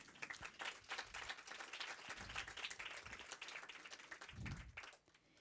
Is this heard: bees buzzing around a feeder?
no